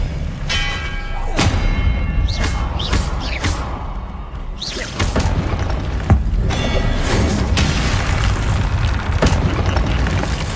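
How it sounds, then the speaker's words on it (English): An Expelliarmus spell cast in the video game Hogwarts Legacy, heavy booming magical impacts with whooshes and thuds over dense game sound, loud and continuous with several sharp hits. "Expelliarmus!"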